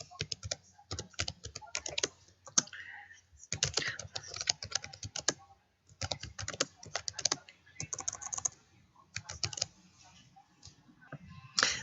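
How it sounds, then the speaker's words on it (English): An email is typed on a computer keyboard in quick, close clusters of keystrokes separated by brief pauses, with no talking. "I've typed out most of the email"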